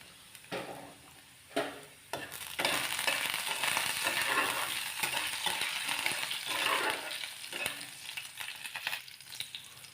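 Garlic frying in a pan for a black pepper chicken dish: a few utensil knocks, then a dense, steady hiss of sizzling oil that fades slightly toward the end.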